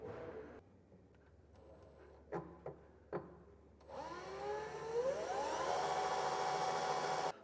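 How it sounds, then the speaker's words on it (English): A power drill whirs up from a few brief taps into a steady, rising high-pitched spin, running loud and continuous through the end, as a 3/16-inch bit drills a pilot hole while fitting an underbed gooseneck trailer hitch to a 2024 truck. "We're just gonna drill a pilot hole up here and in this one"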